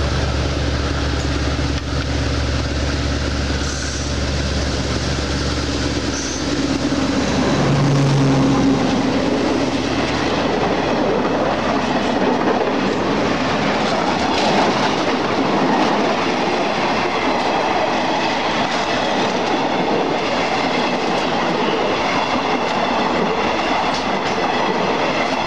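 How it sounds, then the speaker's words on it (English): A train on the Death Railway rumbles past steadily and loudly nearby, its wheels clattering over the rails with a continuous heavy roar. "this is the Death Railway and the train coming"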